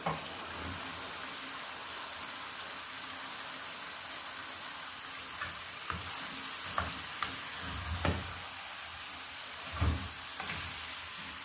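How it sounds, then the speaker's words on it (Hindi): Cauliflower pieces fry in spiced oil with yogurt and green chilies for a cauliflower chicken curry, giving a soft continuous sizzle. A few scattered scrapes and knocks come from the stirring spoon against the pan. "दो मिनट हो गए हैं गोभी को भूनते हुए।"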